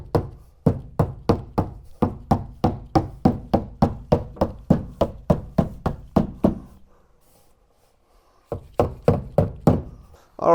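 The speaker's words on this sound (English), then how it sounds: "we can knock our grippers into place." Rapid run of sharp knocks as headliner grippers are tapped into place inside a 1974 VW Beetle, about two dozen close, evenly spaced hits, a pause, then a few more.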